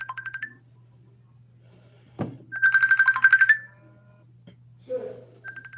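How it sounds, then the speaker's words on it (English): Phone ringtone chiming in short repeated tonal bursts, clear and close, with a low steady hum underneath and a brief knock between rings. "Why my phone ringing?"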